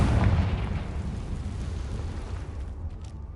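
Confringo fire spell blast in the video game Hogwarts Legacy: a loud, rumbling explosion that hits hard at the start and then fades into a sustained roar.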